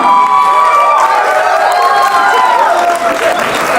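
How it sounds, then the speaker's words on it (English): Audience at a sweet sixteen party applauding and cheering for the hosts, a loud, dense wash of clapping and shouts that holds steady throughout, with some voices mixed in. "with a huge round of applause. Put your hands together."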